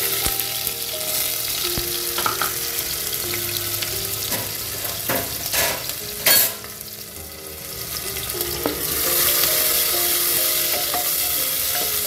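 Onion frying and being stirred in a pan for a lentil and bottle gourd dish: a steady sizzle runs throughout, broken by scraping stirs and a few clinks, with the frying swelling louder near the end and no talk.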